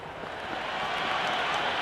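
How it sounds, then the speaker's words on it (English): Dense, steady roar of a big cricket stadium crowd in a Big Bash video game, Sydney Thunder against Hobart Hurricanes, swelling slightly as it goes, with no voices standing out. "It's evident and ever so audible that the crowd is at near bursting point at today's play."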